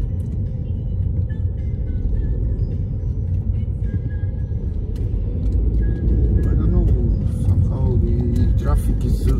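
A car makes its way through slow Belgrade traffic from Bežanijska kosa via Nikole Dobrovića, its cabin filled with a steady engine and road rumble. Voices come through faintly under it, with scattered clicks and passing traffic near the end.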